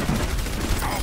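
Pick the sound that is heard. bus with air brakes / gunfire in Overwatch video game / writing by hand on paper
gunfire in Overwatch video game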